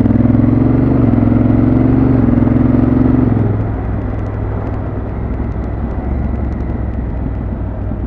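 A 2017 Honda Africa Twin adventure motorcycle engine drones loudly and steadily while riding, the pitch dropping as it eases off, with rough wind and road noise close by.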